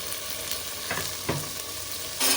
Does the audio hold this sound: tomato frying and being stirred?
yes